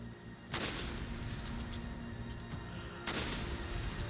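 Gunfire in the video game Resident Evil 5 comes as two loud, booming shots about two and a half seconds apart over a dense, continuous game soundscape, with a few faint clicks between them.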